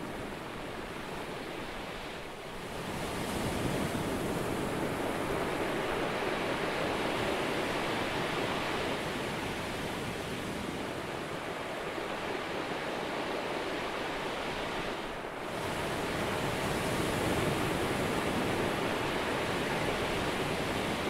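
Ocean waves wash onto a beach in a steady, full broadband roar that swells and eases in slow surges, with brief dips near the start and two-thirds through; no voices.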